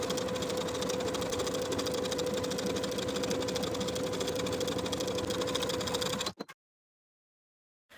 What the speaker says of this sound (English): sewing from top to bottom, I'm going to catch my seam allowance along the right front